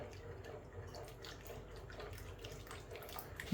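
Liquid pouring and splashing into a pot of pork dinuguan, a continuous low watery rush with small sloshes, fairly quiet and close.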